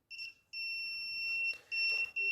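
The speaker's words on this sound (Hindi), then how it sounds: "जब इसको आप आपस में टच करेंगे तो यह बीप करेगा, यानी कि यह बजर मोड पे सेट है।" Multimeter set to buzzer mode, giving a piercing electronic beep in three bursts, one short and two longer, close and clear.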